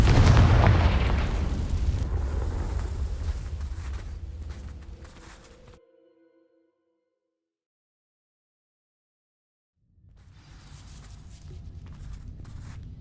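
A fire spell bursts into dry vines in Hogwarts Legacy, a loud booming blast that rolls off over several seconds, then near silence before a quieter rumble of flames and movement returns.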